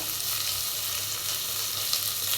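Sliced onions and curry leaves frying in hot oil in a pan for a potato kurma, a steady close sizzle with a constant crackling hiss throughout and no voice.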